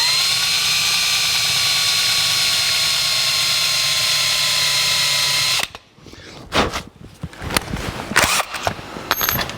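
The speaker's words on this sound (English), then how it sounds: "Take an 1/8" bit and put a little starter hole" A power drill with a 1/8-inch bit runs in a steady loud whine while cutting a shallow starter dimple into the steering column of a 1949 Chevrolet gasser. It then stops abruptly, leaving scattered clatters and handling noises.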